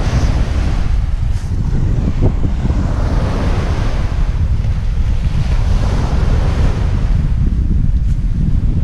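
Surf washing onto a windward Caribbean beach with strong wind buffeting the microphone, a constant loud roar with no clear breaks throughout.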